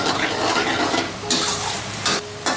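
Noodles in Thai sauce get stirred in a pan with a spatula, giving soft sizzling and scraping with a few sharper clatters near the end, close and without speech.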